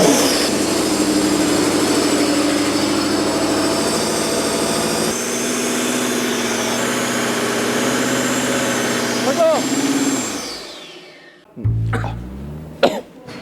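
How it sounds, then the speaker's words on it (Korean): A Range Rover engine, lowered out of the car for a blow-by gas line oil leak check, runs loudly and steadily for about ten seconds, then cuts off, followed by someone coughing close by. "엔진을 내려놓은 상태로 시동을 한번 걸어 보겠습니다"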